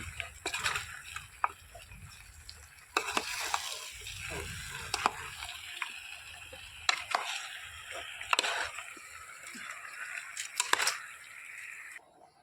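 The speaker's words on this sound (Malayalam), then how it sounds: "ഇത് നമുക്കിത് ഇളക്കി കൊടുക്കാം ഉള്ളി ഇങ്ങ് മുകളിൽ വരണം" Onions frying for a homestyle chicken curry are stirred in a pan, giving a steady sizzle broken by repeated scraping and clinking strokes, heard close up with no talking.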